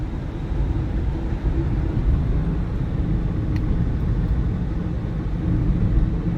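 Inside a 2002 Toyota Prius driving at about 40 mph, a steady low road rumble and tire drone fill the cabin evenly from start to finish, with no talk.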